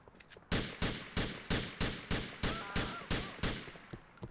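Eight sharp gunshots from a police mod of the video game GTA IV, fired in an even rhythm about every third of a second, loud and close with no talk over them.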